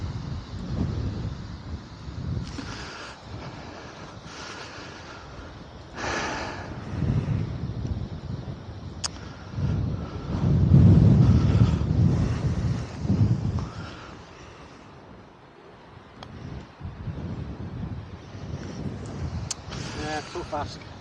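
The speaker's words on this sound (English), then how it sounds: "wind blew the camera over there, but left it way short" Strong wind gusts buffet the microphone on a links golf course during an amateur competition, a rough continuous roar that swells and fades, with people talking at times underneath.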